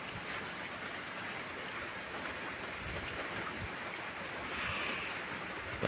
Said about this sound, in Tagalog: Bugso-bugso yung ulan. Uulan, titigil.